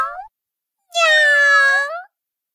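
Two cat meows, a short one then a longer, clear, drawn-out cry, with silence between them.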